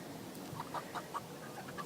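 Eight-week-old meat chickens cluck softly in a short series of quick, faint clucks, with a quiet background around them.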